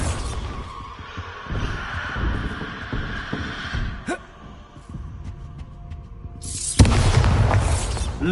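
A Bombarda spell exploding in Hogwarts Legacy, a loud blast with a sharp crack and rumbling burst that trails into debris, after a quieter stretch of magical ambience.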